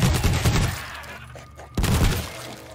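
Automatic turret in the zombie shooter World War Z firing bursts of gunfire in a busy battle mix, loud at the start, dropping briefly, then resuming strongly.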